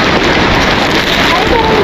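Steady heavy rain falling on the mountain trek to Kedarnath, a loud continuous hiss of drops on surfaces filling the whole moment with no pauses.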